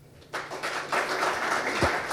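An audience at a Korean land-planning forum breaks into applause after a talk, a dense, even clapping that starts suddenly and carries on steadily at moderate loudness.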